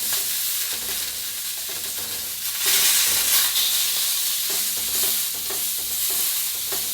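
Pork chop sizzling and frying in a hot pan just after being flipped, a steady loud hiss with faint stirring scrapes throughout, no voices.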